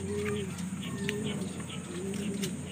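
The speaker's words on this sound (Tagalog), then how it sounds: "yung bagong bili natin ng mga kalapati" Soft, low coos from newly bought pigeons repeat a few times over a steady background hum, with faint chirps higher up.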